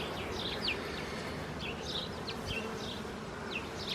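Honeybees swarm and hum around an opened hive at a spring inspection, a dense steady buzz filling the air with individual bees darting close past, no talking.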